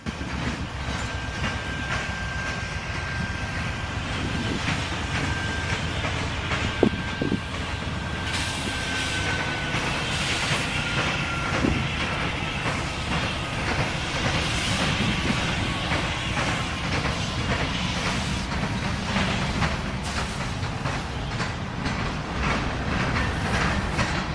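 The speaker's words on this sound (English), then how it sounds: "a short NS manifest crossed the diamond, inbounding into Oakwood Yard" A short Norfolk Southern freight train rumbles steadily past nearby as it crosses a rail diamond toward Oakwood Yard in Detroit, wheels clattering over the crossing with rhythmic clunks and a long squeal along the track.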